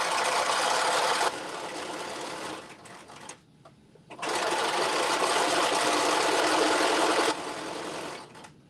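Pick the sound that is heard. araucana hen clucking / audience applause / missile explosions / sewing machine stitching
sewing machine stitching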